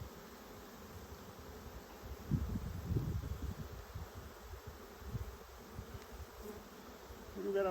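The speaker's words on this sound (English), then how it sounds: "Ooh, bees, I got bees." Honey bees buzz around an open beehive during an inspection of brood frames, a steady close hum with louder swells partway through, with no voices.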